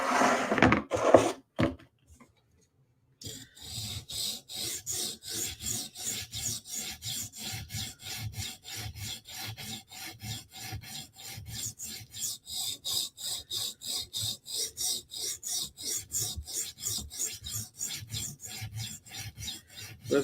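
A Spyderco knife blade is drawn against a sharpening stone in steady, rhythmic rasping strokes, close and continuous after a short pause, with no voices.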